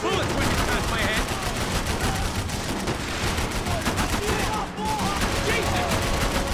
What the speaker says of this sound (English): The bullets whipping past my head.